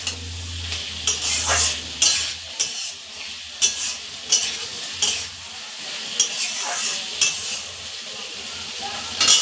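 Soya chunks stir-fried with oil and spices in a pan, a soft sizzle under repeated scraping strokes of a spoon against the pan at a regular rhythm.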